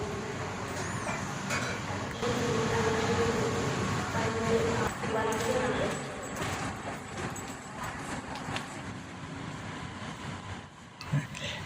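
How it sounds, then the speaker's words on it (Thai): A Bangkok MRT Blue Line metro train rumbles into Silom station, a sustained low roar with squeals and clatter. Voices murmur in the background throughout. "รถไฟมาพอดีอเราก็เตรียมตัวขึ้นรถไฟกันได้เลยครับ"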